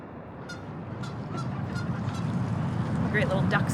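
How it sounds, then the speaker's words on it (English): Ducks honk repeatedly in short, fairly faint bursts over a steady rushing background, the calls growing busier toward the end. "Great little ducks behind me."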